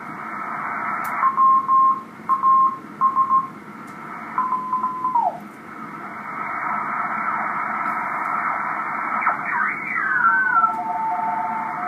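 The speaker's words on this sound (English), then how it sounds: "Conventional radio teletype. That's what that sounds like." A radio teletype signal on the 21 MHz ham band chirps in short tone bursts over a constant bed of static hiss, then a tuning sweep slides the tone downward.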